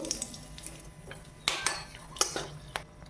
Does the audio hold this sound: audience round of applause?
no